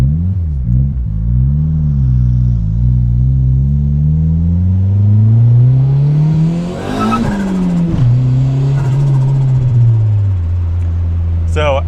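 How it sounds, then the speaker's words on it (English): A turbocharged Honda Civic at about 10 pounds of boost accelerates hard in first gear, the engine climbing in a loud sustained roar while the tires break loose and squeal, then it shifts and pulls again, close and dominant throughout. "we break the tires loose in first gear"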